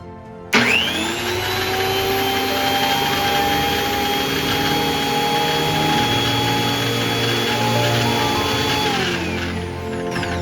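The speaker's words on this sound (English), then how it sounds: "I'll plug it in and lock the motor. Turn it on." Reassembled DeWalt planer motor switched on, heard as a loud whine that spins up quickly and holds a steady high-pitched roar for about nine seconds before beginning to wind down, close by with no talking.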